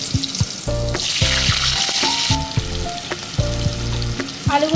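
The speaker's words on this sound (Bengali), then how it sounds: "তেলটা তো গরম হয়ে গেছে, আলুগুলো প্রথমে ভেজে নিই" Potato pieces fry in hot oil for a vegetarian potato and pointed gourd curry, giving a constant close sizzle broken by repeated scraping and stirring strokes of a spatula in the pan.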